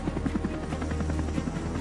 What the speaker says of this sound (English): The group's helicopters go into action whenever technical staff, medical supplies, munitions, or provisions have to be exchanged between vessels.